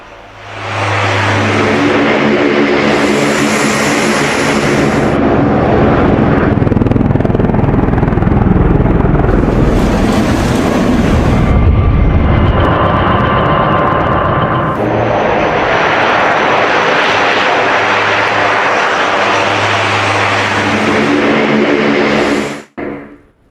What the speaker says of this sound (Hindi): ये देख रहे हैं अमेरिकी C-130 विमान, यह विमान भी उतार दिया गया था।